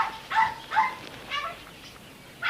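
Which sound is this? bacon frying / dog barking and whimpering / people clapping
dog barking and whimpering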